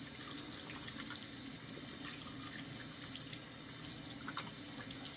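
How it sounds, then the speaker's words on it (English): Tap water runs steadily into a sink during hand washing, a constant soft hiss and splash heard alone at close range without talk. "I like to hand wash for 60 seconds, just to make sure I've got enough microorganisms off of my hands."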